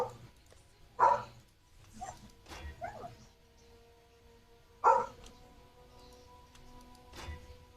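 A house dog barks two sharp, fairly close times several seconds apart over quiet indoor background sound.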